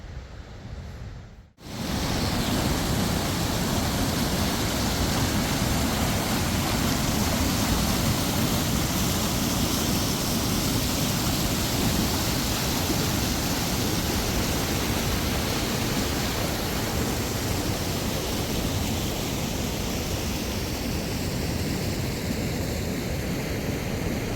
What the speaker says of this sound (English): So we're going to try and get to that waterfall now